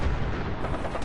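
A short, dense blast from an explosion in Fallout 4, loud and noisy with broad rumbling energy across the whole burst, no voices over it.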